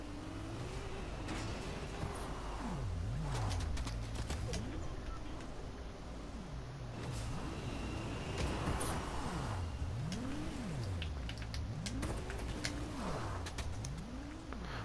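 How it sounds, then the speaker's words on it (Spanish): A car drives past in the video game Fortnite. Its engine runs steadily for about fifteen seconds beneath sweeping, warbling in-game tones and scattered clicks. "no os atropelle ese coche que viene por ahí"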